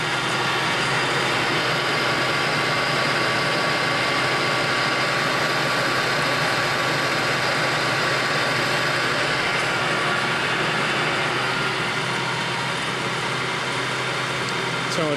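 Clausing Colchester Master 2500 engine lathe running at 770 RPM, a steady mechanical hum and whine that holds constant and loud throughout, with no talking.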